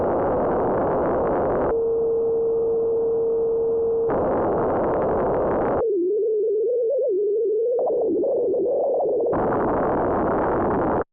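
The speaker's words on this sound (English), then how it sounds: "we can switch through these and we can actually hear the different types of noise" Synthmaster 3 noise LFO cycling through noise types: bursts of broadband hiss alternate with a steady pure tone and a wobbling, filtered noise band, each section switching abruptly, loud and close with no talking.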